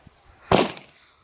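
A firework missile goes off with one sharp, loud burst that crackles and fades over about half a second, outdoors at a backyard fireworks display.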